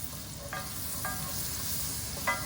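A teaspoon of olive oil heating in a pan with a bit of leftover mushroom before steak for beef stroganoff, a soft steady sizzle with three brief scraping stirs, close and quiet.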